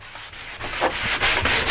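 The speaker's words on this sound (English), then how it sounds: "we're doing a little of hand sanding to knock off any of the machine sanding marks we did before" Hand sanding a wooden pizza cutter to remove machine sanding marks, rhythmic back-and-forth rasping strokes, close and fairly loud, about five passes.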